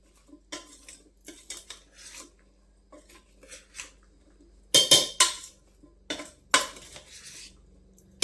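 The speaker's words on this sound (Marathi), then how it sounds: "हे अर्धं घालून घेतलेले मिक्स करून घ्यायचे सगळे साहित्य" Ingredients being mixed together in a dish: intermittent clinks and scrapes of a utensil against the container, with brief louder clattering bursts in the middle and later, close and without speech.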